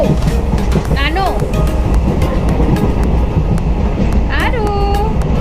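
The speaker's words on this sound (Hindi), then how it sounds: "अभी वाराणसी से उतर कर हमने वाराणसी भटनी एक्सप्रेस पकड़ा हुआ था" Rumbling, clattering rails of the Varanasi–Bhatni Express running near Varanasi, loud and continuous from inside the train, with rising whistle-like squeals and people talking over it.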